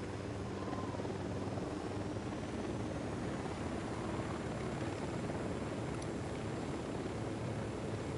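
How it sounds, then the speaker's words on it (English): Continuous whirring rotor drone of a helicopter near an airfield on salt flats, a steady, even roar that fills the background throughout with no pauses or speech. "This is their fucking helicopter."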